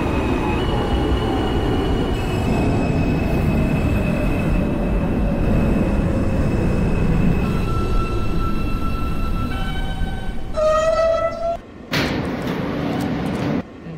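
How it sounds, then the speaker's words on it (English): A G subway train runs in the OpenBVE train simulator, a Queens-bound R160 local with a loud, continuous rumble of wheels on track and rising motor whines, ending in squeals and a door chime. "This is a Queens-bound G train."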